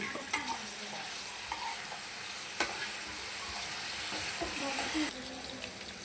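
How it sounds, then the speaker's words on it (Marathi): Onion frying in oil in a wok makes a continuous close sizzling hiss, punctuated by scraping stirs and the clicks of a spatula against the metal, with faint talk underneath. "आपण कढईत कांदा फ्राय करण्यासाठी टाकला आहे"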